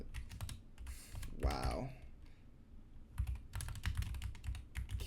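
Rapid clicky typing on a SteelSeries Apex computer keyboard with very sensitive switches comes in quick bursts, close and crisp, with a short spoken exclamation in the middle.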